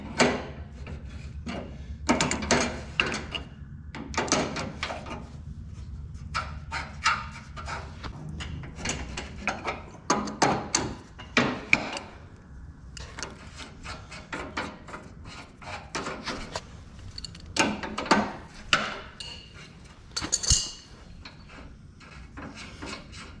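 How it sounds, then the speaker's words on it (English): A wrench works the jam nuts on the deck of a John Deere 425 mower with a 54-inch deck, producing irregular bursts of close metallic scraping and ratcheting separated by short pauses. "I had to loosen the jam nuts on the back side first so that I had room to draw these in"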